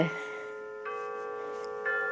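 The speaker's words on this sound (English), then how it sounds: "here we go again with the chimes" Indoor wind chimes ring clearly in three separate strikes about a second apart, each leaving long sustained metallic tones that fade slowly, and no one talks over them.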